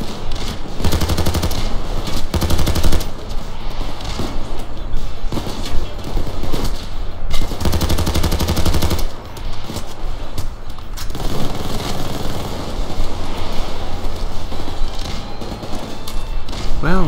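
Rapid automatic fire from a Swiss rifle in the video game PayDay 2, loud sustained bursts with short pauses and dense rattling shots throughout, mixed with heavy in-game thumps and action noise.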